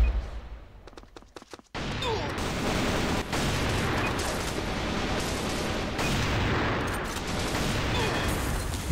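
Gunfire in a tactical shooting game with bomb-site rounds: heavy, continuous automatic bursts and booming shots fill the mix after a short quieter opening, with players' voices talking underneath.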